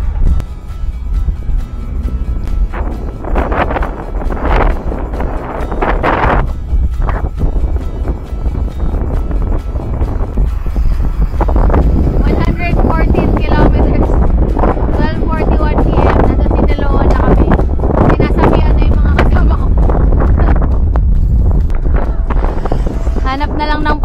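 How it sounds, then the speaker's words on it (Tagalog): Strong wind buffeting the microphone during a motorcycle ride on a road loop, a constant loud rumbling roar that surges and swells throughout, with a rider talking intermittently underneath. "Sobrang lakas ng hangin."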